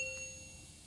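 Subscribe notification bell effect: a single bright, clean ding with a short ringing tail, fairly faint and heard alone over a quiet background.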